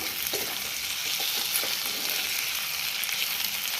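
Crispy okra fry sizzling in a pan as coriander leaves are stirred in, a steady close frying hiss with a few soft stirring scrapes early on, no voices.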